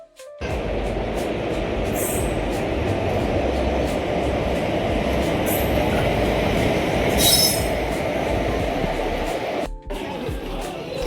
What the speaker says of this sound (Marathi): मी जेजुरीच्या रेल्वे स्टेशनवर पोहोचलेलो आहे. एकदम भव्य असं जेजुरीचं रेल्वे स्टेशन आपलं.